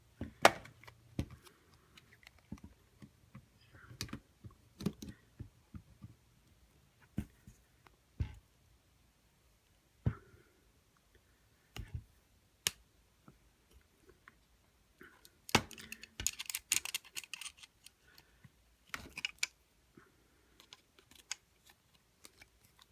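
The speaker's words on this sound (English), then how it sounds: "I'm just twisting the plastic." Plastic shell of a 2015+ Subaru WRX flip key being twisted apart by hand, with sparse close clicks, creaks and small snaps spread through the clip and a denser cluster of cracks near the end.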